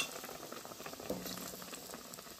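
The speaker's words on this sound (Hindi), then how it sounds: "इसी तरह हम सारे पाव को बेसन में अच्छी तरह लपेट कर तल लेंगे।" Pav wrapped in gram flour batter for vada pav bubbles steadily in hot frying oil, a soft, continuous crackle with no talking.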